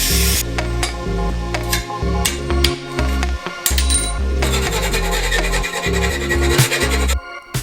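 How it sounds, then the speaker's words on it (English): An angle grinder cuts a circular hole in exhaust metal, a loud, harsh, continuous whine with gritty scraping and shifting pitch as the disc bites, close by. "This hole cut with the grinder isn't exactly my best work"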